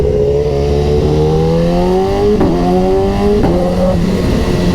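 A BMW S1000RR superbike's engine revs hard and loud, its pitch climbing steadily through several upshifts with brief dips between gears, close and continuous with no talking.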